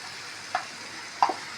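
Plantain and chicken get stirred in a frying pan over a soft steady sizzle, with two quick scraping clinks of the spoon against the pan, fairly close and without talk.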